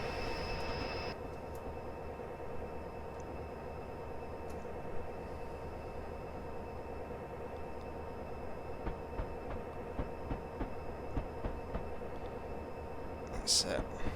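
A Class 59 diesel locomotive in Train Simulator 2018 using default sounds, a steady low engine drone with rail clicks and rolling noise, fairly faint and continuous, with a high whine cutting out early and occasional wheel squeals.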